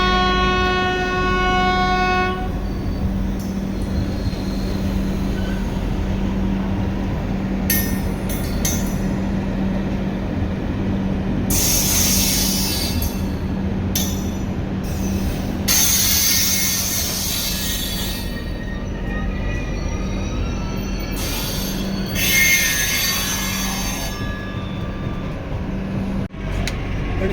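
A train horn sounds briefly, then train 22472 departs Ratangarh and rolls steadily along the tracks with a continuous rumble, clanking wheels and occasional screeching squeals.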